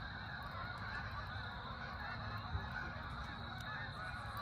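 Wild geese honk while flying south overhead in autumn at a Trap Pond State Park campsite, faint and distant over a steady rushing background, with a few louder calls rising briefly.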